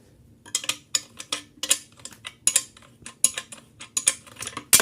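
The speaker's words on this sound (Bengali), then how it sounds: "তো আমি ডালিতে টাইট দিই" Someone tightens the nut on a steam iron handle: a close, irregular run of sharp metallic clicks and ticks, like ratcheting, with short quiet gaps between them and no voices.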